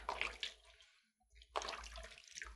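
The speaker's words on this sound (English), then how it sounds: "is rinsing your client's feet" Warm water splashes over feet during a pedicure, two close bursts of pouring and sloshing separated by a short near-silent pause, with no talk.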